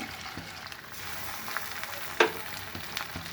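Fried prawns sizzle in a pan as a little water is added, giving a steady crackling hiss with one sharp spitting burst partway through.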